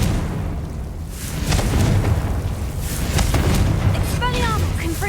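Fiery blasting spell in Hogwarts Legacy going off amid combat, a deep rumbling boom followed by crackling debris and whooshing magical effects, loud and close, with game noise continuing throughout.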